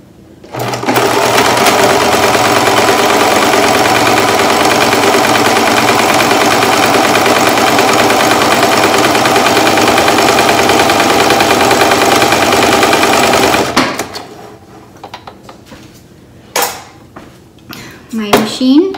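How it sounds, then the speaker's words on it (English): A roughly 15-year-old home sewing machine runs steadily for about thirteen seconds, stitching a seam along the top and bottom of a handmade fabric mask, loud and close, then stops, leaving faint handling noises. "I'm going to sew the top and the bottom"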